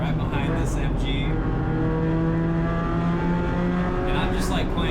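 A Spec Miata race car running on bald tires at MSR Houston drones loudly and steadily from up close, its engine note holding a rich harmonic tone with a slight shift in pitch near the end.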